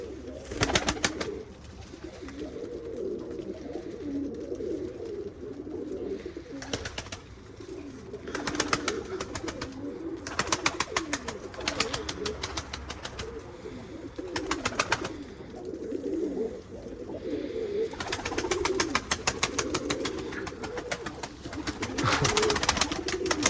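Pigeon with a blind left eye cooing at a loft, soft low coos repeating over a steady background, broken by several sharp bursts that could be wing flaps or handling noise.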